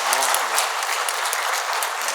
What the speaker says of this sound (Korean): 우리 박수로 환영하도록 하겠습니다.